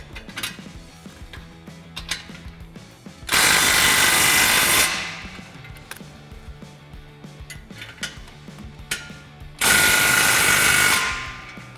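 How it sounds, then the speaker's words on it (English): A ratchet drives a 17mm socket on the front exhaust flange bolt of a 2021-2022 Ford F-150 during a Roush single exhaust install, with rapid clicking bursts and two loud, sustained tool runs, close up and without talk. "tightening down all of our flanges and clamps. So we'll start on our front flange. It's going to be a 17mm socket on the front and a 15mm wrench on the back."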